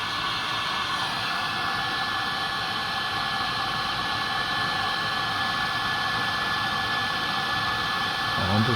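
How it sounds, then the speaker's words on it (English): A heat gun blows steadily on heat-shrink tubing over a soldered wire joint, making a loud, close, continuous airy roar that holds nearly unchanged throughout. "just get the heat gun, just give it a light kind of blow dry over that"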